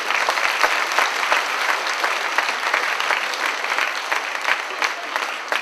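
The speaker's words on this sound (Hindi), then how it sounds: "हम जोर से ताली बजाएंगे" An audience at a deanery gathering bursts into loud, sustained applause, a dense patter of many hands clapping close by for several seconds.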